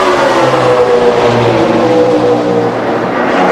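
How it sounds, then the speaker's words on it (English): NASCAR stock cars roar down the backstretch at Chicagoland during the 2008 LifeLock.com 400, a loud sustained engine drone with shifting pitch as the pack passes. "there's a lot of cars coming off of 2 down the backstretch."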